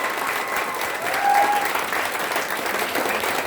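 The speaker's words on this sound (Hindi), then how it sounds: "एक बार सर के लिए जोरदार तालियां, जोरदार" Seminar audience in Bhopal applauding loudly and steadily, a dense wash of clapping from many hands that fills the room throughout without a break.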